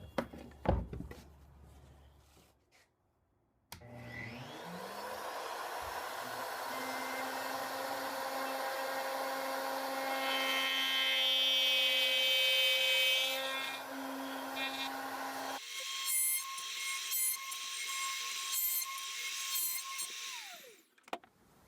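A power tool machines dovetail cuts in wood for bookends, with a continuous motor whine and cutting noise that rises through the pass, a pitch change partway through, and the tool spinning down near the end.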